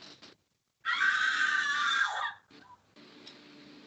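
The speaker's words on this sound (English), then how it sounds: "Nothing happens, but you hear that scream." A loud, sustained scream rises from behind the wall of the wailing crypt, lasting about a second and a half before fading, with brief quieter sounds before and after.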